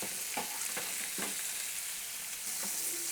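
Okonomiyaki fries over high heat in a pan, a steady broadband sizzle with a few brief crackling spurts, close and continuous with no talking.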